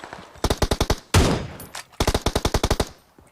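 Automatic gunfire in the PUBG Mobile game rings out in two rapid bursts of loud, sharp shots, separated by a single heavier blast, close and clear with no talk.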